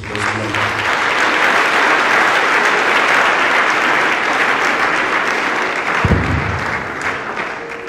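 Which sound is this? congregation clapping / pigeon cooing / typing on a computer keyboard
congregation clapping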